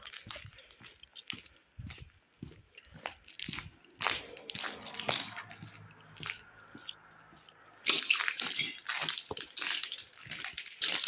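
Footsteps crunch and grind over broken glass while descending a long staircase in an abandoned holiday resort, an irregular run of close, gritty crackles with a denser, louder stretch near the end and occasional faint talk.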